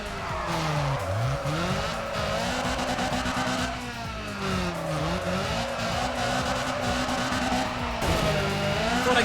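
In the Need for Speed ProStreet racing game, a car's tires squeal and skid as the handbrake is pulled, with the engine revving up and down through repeated slides and loud, continuous tire screech.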